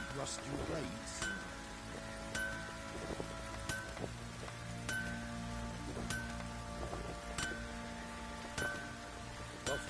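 Rain in The Witcher 3 falls as a steady soft patter with faint clinks and drips, behind a low ambient hum and periodic light chimes.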